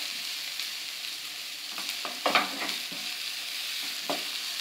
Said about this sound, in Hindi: और इसको थोड़ी देर भून लें जब तक शिमला मिर्च हमारी नरम हो जाए